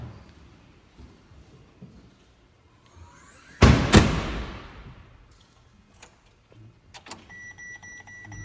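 A Ferrari Enzo engine in a garage bursts into a brief, loud roar that quickly fades, followed by faint clicks and a soft electronic chime.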